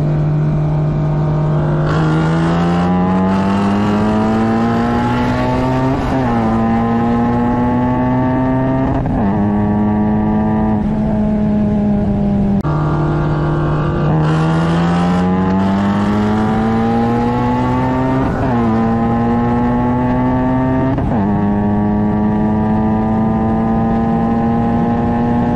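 A Kraftwerk-supercharged Honda Civic races a Mustang with an MT82 exhaust, a loud engine note climbing steadily through the gears with a supercharger whine, repeating the same pull twice, close and continuous.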